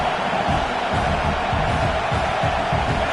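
Crowd noise fills the stadium at an American football game early in play, a constant loud roar that never swells into a distinct cheer.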